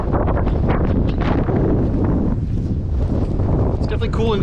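Wind buffeting the microphone on the Appalachian Trail near a big tree on a sunny day, a steady low rumble throughout with someone talking over it.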